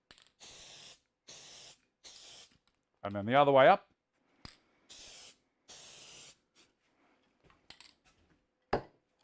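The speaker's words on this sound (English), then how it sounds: "but just a little quick spray." Short hissing bursts from an aerosol can, sprayed during woodworking work on a chisel back with a Sorby Pro Edge sharpener; several quick close sprays come in separate puffs, with a brief spoken line and a couple of sharp clicks between them.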